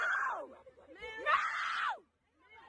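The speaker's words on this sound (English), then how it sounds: "you hear the screaming? Like, this is real screams, real tear, real horror" A woman screams in horror near a bus, rising and falling shrieks over about two seconds with chaotic crowd voices around her, then a quieter wail trailing off.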